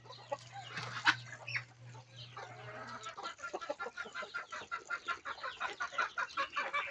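Chickens cluck and chatter close by as they are fed alongside ducks, with rapid pecking and clucking building in the second half and a low steady hum in the first few seconds.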